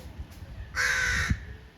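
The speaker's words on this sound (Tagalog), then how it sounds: "Tingnan yung uwak dito." A single loud, harsh caw from a large crow in Edmonton, Alberta rings out close by after a brief fainter call, standing out against a quiet background.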